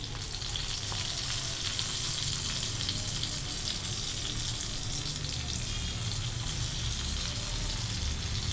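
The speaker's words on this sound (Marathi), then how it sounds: "आता आपण या एक बाजू आता चांगली छान फ्राय झाली, आता आपण अशा पलटी करायच्या," Stuffed green chilies fry in hot oil, giving a steady, close, full sizzle that stays constant throughout with no voices.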